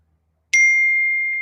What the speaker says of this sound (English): I'm in a group chat, which I silenced on my phone, but for some reason it's not muted on my computer.